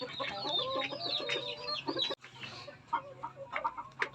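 Black Australorp chickens cluck and chatter close by, a busy overlapping stream of short calls with a brief pause midway before the clucking resumes.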